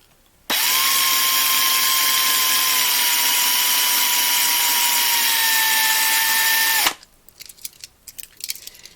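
A DeWalt 36-volt cordless drill bores out the base of a 1/64-scale NASCAR diecast car, a loud steady whine that runs for about six seconds and cuts off sharply, followed by faint clicks and handling noises.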